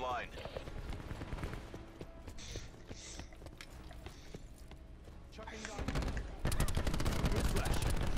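Dual SMG gunfire in Black Ops 4, rapid bursts of automatic shots crackling amid game action, growing dense and loud toward the end, with players talking over it.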